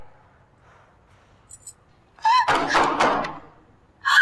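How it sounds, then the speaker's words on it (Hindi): A door is slammed shut to lock someone in during an indoor drama scene, landing as one heavy close thud with a short rattling tail, after a quiet lead-in and brief tonal accents. "अरे तूने रुशना को अंदर क्यों बंद कर दिया?"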